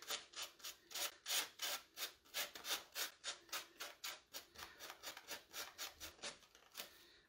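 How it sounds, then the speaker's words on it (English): Light, quick sanding strokes over thin decoupage paper laid on a wooden chest, a rhythmic series of soft rasping rubs, roughly two or three per second, close and fairly quiet, with no talking. "This is a pretty thin paper. I don't need to be really aggressive with the sanding."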